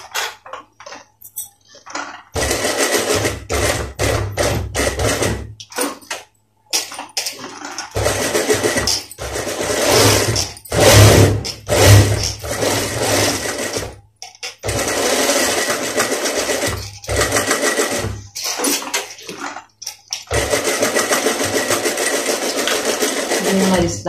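A sewing machine stitching a gents' shirt placket with a cut band, heard as loud, close bursts of rapid mechanical whirring broken by short pauses, alongside spoken instruction.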